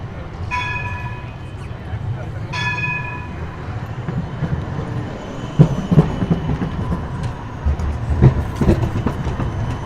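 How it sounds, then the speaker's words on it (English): On an Amsterdam street a tram rolls past, its low rumble and rail clatter building with two bright bell dings near the start, while a voice talks over it. "Note to self, do not get run over by a tram."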